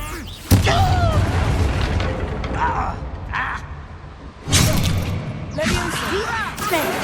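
Revelio spell cast in the video game Hogwarts Legacy: a booming whoosh bursts out, followed by creaking, shimmering magical tones, then a second deep burst a few seconds later amid eerie swirling effects.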